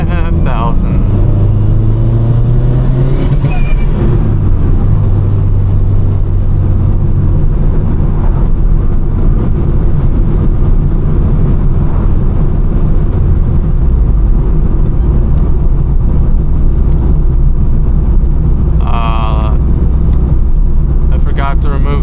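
Subaru GC8 WRX clone turbo engine during a tuning pull, droning loudly with a pitch that rises early then holds a heavy steady rumble, close and constant, with a voice faintly present beneath.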